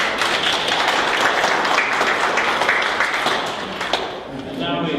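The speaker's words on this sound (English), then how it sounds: "Rosemary, a round of applause." Applause from an audience at a mayoral candidate interview evening, a dense, steady wash of clapping that softens slightly near the end, with some voices mixed in.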